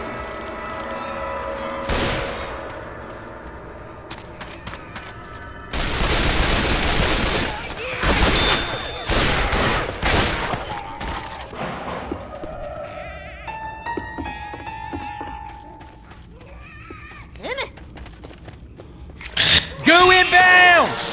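Bursts of gunfire in the zombie shooter video game Left 4 Dead 2 ring out in rapid volleys alongside other game effects, with players talking over the action.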